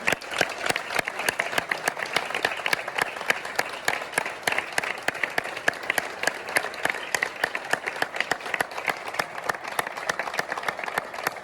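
Warm applause from a gathered audience at a local recognition ceremony for a family in Traiguera, many hands clapping in a steady dense patter that stays even for over ten seconds, with faint murmuring underneath.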